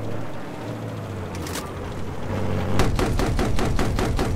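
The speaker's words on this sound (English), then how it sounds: "Huh, this HMG is kind of weird." A heavy machine gun fires in Battlefield 4 during a 2014 close-quarters Operation Firestorm match, with a low engine-like drone, then a run of loud, evenly spaced heavy shots in the second half.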